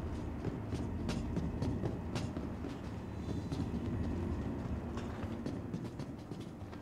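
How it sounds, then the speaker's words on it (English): A train rumbles steadily along in the Star Citizen video game, with a constant low roar and fast clicking and clattering over the rails, heard up close with no speech. "Did I take the wrong train again?"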